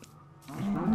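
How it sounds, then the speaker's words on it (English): A low, drawn-out cow moo from Minecraft swells and holds for about a second, sounding synthetic and game-like rather than recorded outdoors. "Yeah, there's so many cows."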